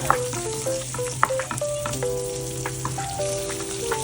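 Sliced pork chop sizzles on the grill, a close, constant frying crackle broken by small pops and scraping clatters, with no talking.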